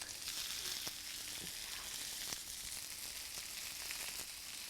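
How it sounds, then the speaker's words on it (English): Quiet, steady sizzling of chicken pieces browning in a frying pan for a chicken and cranberry tajine, with a few soft clicks and crackles throughout. "we're browning off the chicken so that we give the chicken a little bit of colour"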